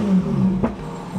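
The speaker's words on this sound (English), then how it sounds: "Let me start the engine up." A Lotus car engine starts up close by, a brief cranking clatter followed by a sharp burst as it catches, then settles into a low, steady running hum.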